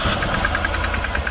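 A Chevrolet Tahoe engine with a misfire problem is cranked, giving a rapid, evenly spaced mechanical knocking rattle over a low rumble, close and fairly loud, with no voices.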